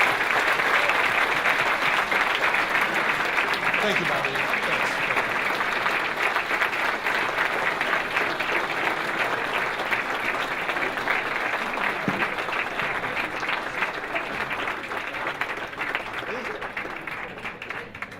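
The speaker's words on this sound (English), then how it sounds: "Round of applause, ladies and gentlemen," Loud, sustained applause from a crowd at a Scouts breakfast honoring a guest, dense clapping that fades slightly toward the end while someone briefly speaks over it.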